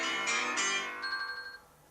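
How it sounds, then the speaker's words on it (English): A phone alarm sounds indoors: a bright ding followed by a ringing chime that repeats in quick pulses and fades away, with no voices. "I heard the ding, and then I heard the chime. Yeah, my alarms."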